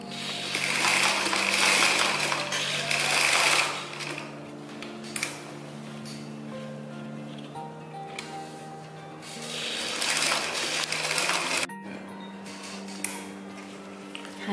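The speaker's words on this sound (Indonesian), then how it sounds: "Kemudian jahit miring. Jadi seperti huruf Z atau huruf N." A sewing machine runs in several loud bursts as it stitches elastic onto a gathered skirt in a zigzag pattern, its motor whirring and needle ticking rapidly, with quieter pauses between runs.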